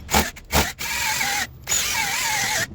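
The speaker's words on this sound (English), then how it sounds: "What we do is we're going to drill it." A power drill drilling holes for mustache bar bushings on a Datsun 280Z runs close by in a couple of short bursts, then in longer steady whirring stretches with a tone that rises and dips as it bites in.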